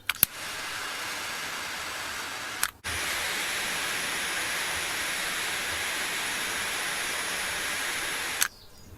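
A crème brûlée blowtorch hisses steadily up close while lighting a modded ProQ smoker, a continuous broad rushing flame noise that cuts off briefly once and then resumes before stopping.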